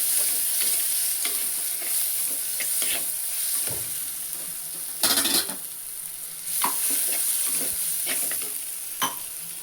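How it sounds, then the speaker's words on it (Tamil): Chili and coriander powder stirred in a sizzling pan for egg curry, a constant frying hiss with scraping spoon strokes and a few sharper clanks against the pan, with no voices. "இதெல்லாம் போட்டு நல்லா கிளறிக்கலாம்."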